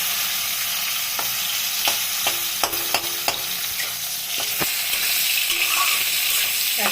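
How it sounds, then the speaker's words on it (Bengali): A spatula stirs bitter gourd frying in hot oil in a pan, sharp scraping knocks and clicks recurring over a constant close sizzle. "এক পিঠ ভাজা হালকা হলো, তাতে এখন নাড়াচাড়া করছি।"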